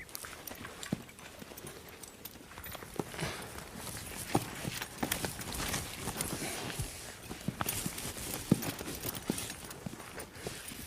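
Several horses walking around a corral with a young stallion, scattered hoof thuds and shuffles at an uneven pace, soft and mid-distance over faint background noise.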